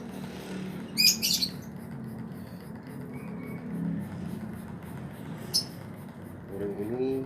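A green leafbird (cucak ijo) from Jember, kept as a caged songbird and about to be bathed, gives a few sharp chirps and short calls over a low background hum, with a later brief twittering phrase.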